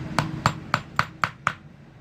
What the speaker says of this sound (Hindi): ये कील ठोक के और एक दूसरी कील ठोक लेंगे।